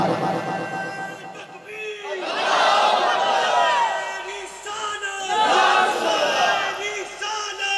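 A village crowd at a religious gathering on the life of the Prophet roars a slogan back in two loud, swelling collective shouts, with chatter and the preacher's voice between the bursts.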